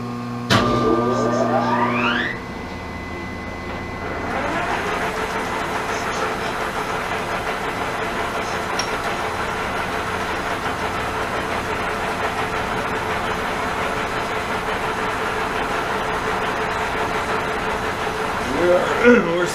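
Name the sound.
Pratt & Whitney Model B lathe spinning at 190 RPM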